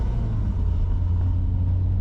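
A 2.5-litre turbocharged engine swapped into a Mazdaspeed NC Miata rumbles steadily at idle or low revs. It is a deep, continuous drone close by, with no voices.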